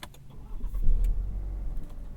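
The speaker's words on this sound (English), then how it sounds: "Before we start the engine, we're going to reset the car's trip computer" A 2023 Cadillac CT4 2.7T engine turns over and catches, settling into a low steady rumble after a few faint clicks.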